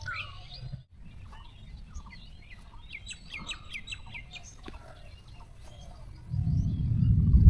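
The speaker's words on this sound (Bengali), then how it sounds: "এখানে অনেকগুলা ঘুঘু বসে আছে" Several doves perched outdoors under cloudy skies before rain, with soft bird calls and chirps scattered in a quiet setting, followed by a rising rush of wind or rumble near the end.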